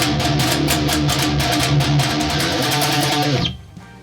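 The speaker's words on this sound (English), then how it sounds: "the verse riff, which is probably the coolest riff to headbang over and play live" Heavy distorted electric guitar plays a chugging verse riff in steady rhythmic strums, loud and up close, then stops abruptly near the end with a short fading ring.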